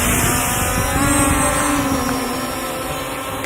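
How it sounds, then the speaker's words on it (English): The motors of an EXO X7 Ranger drone run steadily while it takes off, making a loud, close, even whine and hum that holds constant with no talk. "We can either start the motor by pressing that, or by pushing these together"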